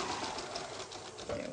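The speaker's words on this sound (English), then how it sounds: "Just use a zigzag on your sewing machine." A domestic sewing machine runs steadily through a zigzag stitch on an apron, a continuous mechanical whir heard close with no talking.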